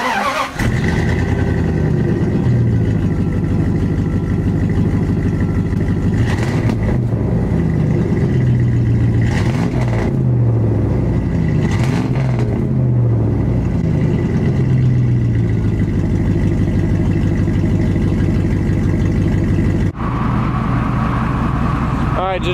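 A 2nd-generation Dodge Ram with a 318 5.2-litre V8 and a 2.5-inch exhaust into a muffler with a 3-inch outlet, running with a deep steady burble and several rising revs, close and loud, with speech under the engine.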